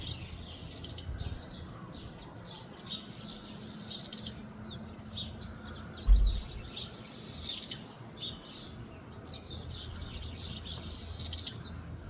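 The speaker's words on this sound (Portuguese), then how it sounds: "Vou botar aqui os passarinhos aqui." A flock of albatrosses calling at Penha, Santa Catarina: repeated sharp, high chirping calls in bursts every second or so over a steady outdoor hiss, with a low bump partway through.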